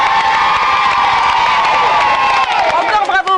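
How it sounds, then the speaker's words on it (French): A studio audience at a French children's television show cheers and applauds, a loud, continuous crowd roar of shouts and whoops with clapping underneath, fading slightly at the end. "tout le monde applaudit"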